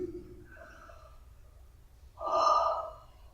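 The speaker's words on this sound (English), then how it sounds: "Take a deep breath for me." A patient takes a deep breath during a doctor's physical examination, a single strong gasping inhale near the end, close and clear over faint background hum.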